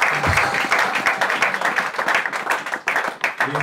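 A church congregation applauds together, a dense, steady wash of clapping from many hands that swells and dips slightly, with faint voices mixed in.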